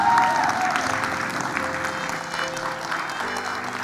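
At an award ceremony stage show, an audience claps in a sustained, moderately loud wave with a faint crowd murmur and steady background hum beneath it.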